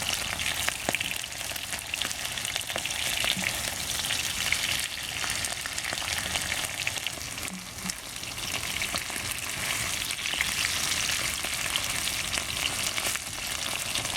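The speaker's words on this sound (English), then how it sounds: "fry them up one side first. And kind of turn them over." Chunks of chicken for a Hunan stir fry sizzle and crackle steadily in a hot pan, a close, even frying hiss with occasional pops and stirring clatter, no voices.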